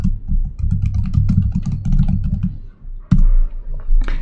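Someone types an author name on a computer keyboard: quick, irregular key clicks in a dense burst, then a pause and a few more taps, all over a loud low rumbling hum.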